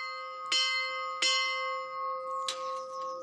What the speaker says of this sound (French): Vous avez dû bien entendre les cloches.